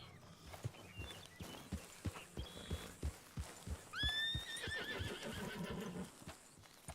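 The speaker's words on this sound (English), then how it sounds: "I thought I saw a horse running by, black. I heard it." A horse in a video game trots past with steady clip-clop hoofbeats, then gives a loud neigh partway through, the hooves continuing at moderate distance afterward, with no speech.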